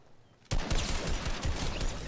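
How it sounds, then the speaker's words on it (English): Revolver fire in Fortnite, a sudden loud crack followed by a rapid run of repeated shots and clatter lasting under two seconds, with no voices. "Why did you think just firing a revolver against me would work?"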